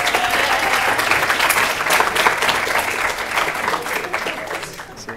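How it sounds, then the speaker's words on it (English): A lecture audience at a VFX talk bursts into dense, sustained applause, loud and continuous for several seconds before tapering slightly at the end. "Yeah, round of applause."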